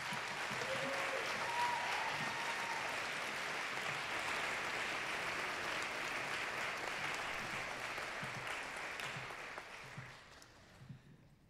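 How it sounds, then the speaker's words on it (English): An audience at a high school and college wind ensemble concert applauds for the high school seniors, dense sustained clapping that fills the room and fades toward the end. "would you please give a round of applause for our high school seniors"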